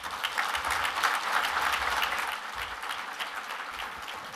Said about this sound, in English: How about one more round of applause for our great finalists this year